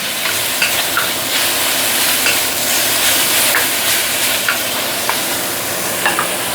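Vegetables for Buddha's delight stir-fried in a hot pan, a steady loud sizzle with regular scraping strokes of the spatula, no voices.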